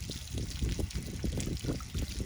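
Water pours steadily into a cup, giving a continuous trickling, splashing stream at moderate loudness with no voices over it.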